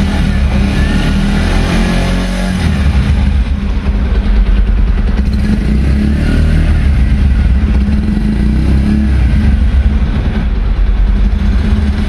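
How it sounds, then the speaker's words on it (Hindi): A Bajaj Pulsar 125 Neon BS6 2022 motorcycle engine runs steadily at idle, its exhaust giving a continuous low rumble with some mechanical clatter, close and loud throughout. "अब आप इसके इंजन और एग्जॉस्ट के साउंड को सुनिए"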